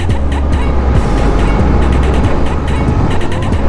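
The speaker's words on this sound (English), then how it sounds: "Ooh, 49 miles an hour down the dirt trail." A Talaria MX4 electric dirt bike runs fast down a gravel dirt trail. Loud, steady wind buffeting and rumbling tyre noise fill the whole clip, and no one speaks.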